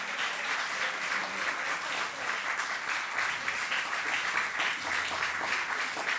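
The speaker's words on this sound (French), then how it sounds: "Il mérite encore nos applaudissements parce qu'il vient de loin." An audience at an anti-corruption contest ceremony applauds in one dense, steady wave of clapping that holds evenly throughout, with no voices standing out.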